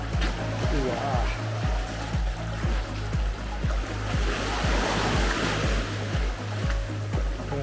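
Sea waves wash onto a beach on Skopelos in a steady, close, rolling surge with a repeated rhythm of breaking and receding water, and faint voices sit under it.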